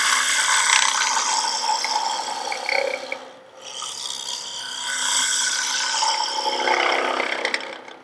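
Wood lathe gouge rubbing its bevel while turning a bowl, a loud continuous rasping scrape that dips briefly midway and then builds again, with no talking.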